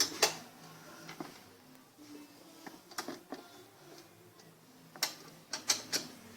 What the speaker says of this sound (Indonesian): Akan lebih mudah kita pakai kunci T ukuran 10. Kita baut dulu bagian depan dan pastikan ini pas dudukannya.